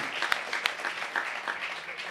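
An audience applauds at an Italian public talk on legality, a dense, steady patter of many hands clapping at moderate distance, with a few sharper individual claps standing out.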